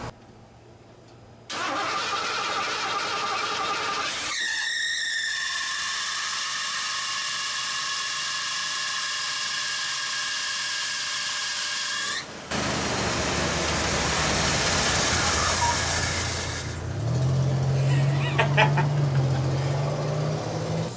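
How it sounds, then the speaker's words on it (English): A Ford Bullnose truck engine running on a newly swapped carburetor from a junkyard build, with a slipping belt, sounds as a steady mid-pitched engine drone with a high squealing whine partway through, then a rougher, louder run. "Belt is slipping really bad."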